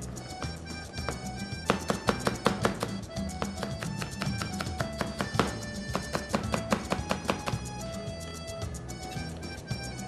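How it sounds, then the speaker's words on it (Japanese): A knife finely mincing green onion on a cutting board makes quick, crisp taps in uneven runs, fast clusters broken by short pauses, close and fairly quiet throughout. "まずネギをみじん切りにしていきます。"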